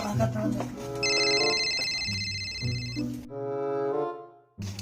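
A telephone rings with a bright electronic trill over a couple of seconds, mixed with people talking nearby.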